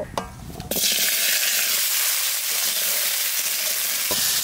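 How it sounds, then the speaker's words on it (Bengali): Potatoes frying in hot oil in a Bengali home kitchen give a loud, steady sizzle after a brief clatter at the start, continuous hiss with occasional stirring. "আলু কটা একটু ভেজে নেব।"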